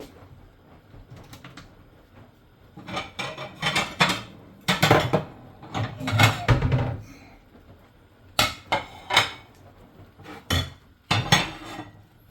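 Ceramic dishes clink and clatter as a plate is pulled from a stack in a home kitchen, in uneven bursts of knocks and rattles close by, with no voices.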